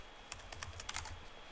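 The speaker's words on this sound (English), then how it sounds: "Grab my keyboard." Keys clatter on a computer keyboard during a coding session, a quick irregular run of light clicks at close range over a low steady hum, with no talking.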